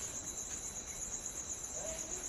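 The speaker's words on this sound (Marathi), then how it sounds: "आता रातकिड्यांचा आवाज वाढला आहे" Crickets chirp at night in a Maharashtra village, a steady, faint, high continuous trill with no voices over it.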